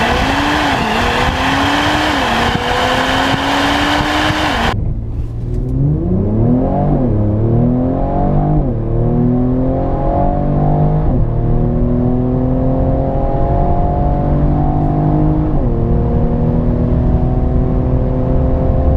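A Mercedes-Benz E43 AMG wagon with 400 horsepower accelerates hard on the road after a loud opening burst. Its engine note rises sharply and drops back again and again as it pulls through successive gears.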